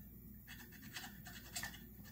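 A metal file rubbing over the decompression valve on a Husqvarna 55 Rancher chainsaw, giving a faint, quick scratchy rasping in several short, light strokes, close up and quiet.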